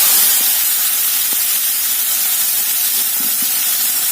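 Ground onion, tomato, ginger and garlic hit hot oil in a loud, continuous hissing sizzle that fills the whole moment, with a few faint knocks underneath and no talking.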